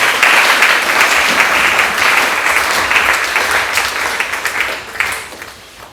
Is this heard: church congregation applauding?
yes